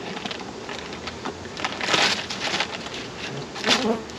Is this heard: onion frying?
no